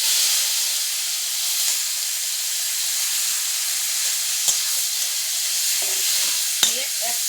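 Crushed chalta fruit frying in oil with mustard seeds, a strong steady hiss and sizzle close by, with a couple of brief knocks from stirring and no talking.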